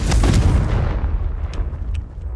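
A Confringo fire-blast spell explodes in the video game Hogwarts Legacy: a single loud boom that hits at once, then rumbles and fades over about two seconds.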